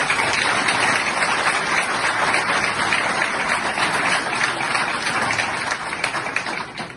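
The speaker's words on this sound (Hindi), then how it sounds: "2 जजेस के लिए पहले तालियां मिले आप सब" An audience applauds in honor of two judges, a steady dense wash of clapping that stays loud and even throughout.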